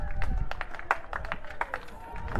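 A small but vocal crowd claps and cheers for a jumper at an athletics federation cup meet, scattered claps and shouts under a commentator's voice.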